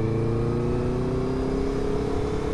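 A Yamaha X-Max scooter engine revs while riding, giving a steady, loud, close mid-pitched drone with faintly rising harmonics and no talk.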